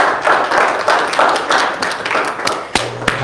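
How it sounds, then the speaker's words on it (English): Steady applause from a church congregation fills the space, with a few sharper individual claps standing out near the end. "let's give the Lord a round of applause"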